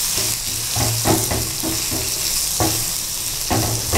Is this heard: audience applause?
no